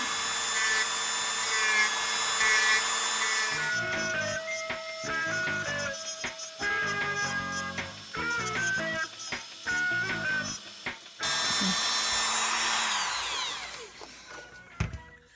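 Dremel rotary tool grinding plastic action figure joints, a high whining motor buzz running steadily at first, then cutting in and out in short bursts as the bit touches the part, before a final sustained run and spin-down.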